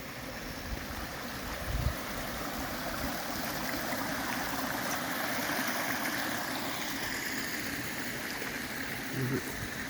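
Rainwater streaming down a mountainside near a shipping container cabin makes a constant broadband rush and babble, steady and close, with a couple of faint thumps.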